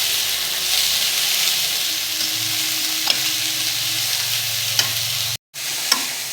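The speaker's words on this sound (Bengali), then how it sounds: "শাকগুলোকে আস্তে আস্তে ভাজবো তেল পেঁয়াজের সঙ্গে।" Red amaranth greens frying with oil and onion in a pan, a steady close sizzle and hiss with a few soft stirring clicks, briefly cut to silence near the end before the sizzle resumes.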